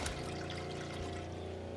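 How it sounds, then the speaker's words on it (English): An RV water pump running as it fills a 6 gallon water heater in a Roadtrek camper van, a steady low hum with water flowing and trickling close by. "You hear the water heater or the water pump going. That's actually filling up the 6 gallon water heater right now."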